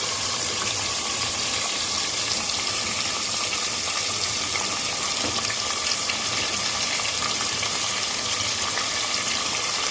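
Mutton with garlic-ginger paste frying in a handi gives a steady, loud, hissing sizzle that runs unbroken for the whole stretch, with no voices over it.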